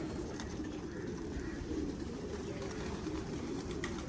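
Pigeons coo softly and repeatedly against a dense, steady background hum, with faint voices nearby.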